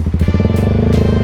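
A Husqvarna Vitpilen 401 motorcycle with a Termignoni exhaust canister runs with a loud, steady, throbbing engine note held close throughout.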